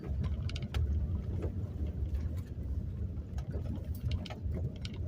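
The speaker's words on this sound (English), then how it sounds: "Take the parking brake off, put her in first. Go for a cruise." A Ford Ranger pickup pulls away in first gear, a low rumbling engine and road noise heard from inside the cab, with faint rattles and clicks throughout and no talking.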